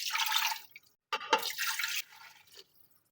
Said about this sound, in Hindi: अब इसमें 2 ग्लास पानी ऐड कर देंगे।